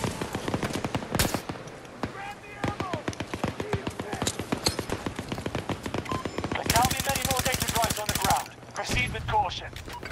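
Rapid automatic gunfire bursts and single shots from Battlefield 2042 Hazard Zone combat, loud and close, with a dense rattling run near the end, while players talk over the action.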